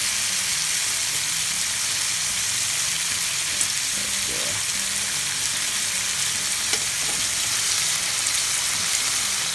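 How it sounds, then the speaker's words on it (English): Bacon frying in a pan with a loud, continuous, close hiss and crackle that holds steady throughout, while a few faint knocks of a utensil break through. "while the bacon's cooking here"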